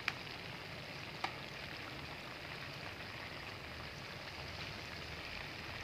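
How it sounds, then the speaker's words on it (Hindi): Chicken pieces coated in turmeric and salt frying in oil, a soft, steady low sizzle with faint crackle throughout, fairly quiet and alone. "और सारे चिकन पीसेस को हम दूसरे साइड से अब फ्राई करेंगे।"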